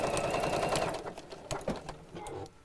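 A sewing machine stitches a chair cushion in bursts of rapid mechanical whirring close by, then slows into a few separate thumps and short runs as the stitching stops and starts.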